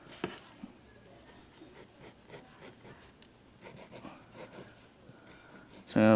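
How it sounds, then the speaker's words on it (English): Pencil eraser rubbed back and forth on drawing paper while sketching a Styracosaurus, a faint close scrubbing in short strokes with light paper handling and a louder rustle at the end. "I'm going to erase a little bit here to give it a little bit more room."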